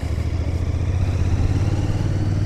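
A 2025 Royal Enfield Bear 650 scrambler's engine runs steadily at idle, a low, even thrum with a slightly rough edge that holds without a rev change from start to finish, no voices over it.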